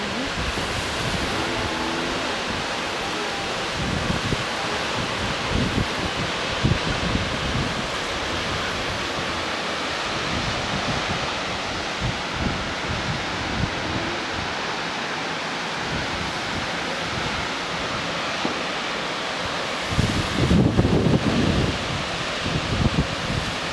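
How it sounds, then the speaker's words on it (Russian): A mountain waterfall in Sri Lanka pours with a loud, steady broadband roar of rushing water that fills the whole stretch without pause, with no voices. "Водопады."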